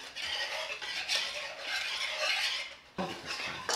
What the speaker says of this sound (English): Mix it up, add your green onions.